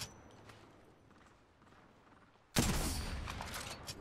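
Gunfire in Apex Legends erupts suddenly after a quiet stretch, a loud dense burst of rapid shots that continues to the end.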